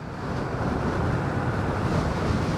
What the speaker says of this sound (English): other than the very windy conditions